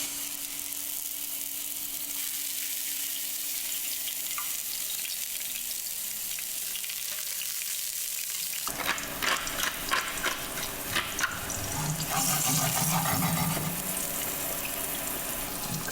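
Courgettes drop into hot rapeseed oil in a pan after a stretch of quiet kitchen background, bursting into a loud, steady close-up sizzle and crackle of frying that carries on to the end.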